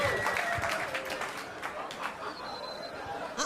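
Audience applause at a hosted live comedy show, a steady patter of many hands clapping mixed with crowd chatter and cheering, moderately loud throughout.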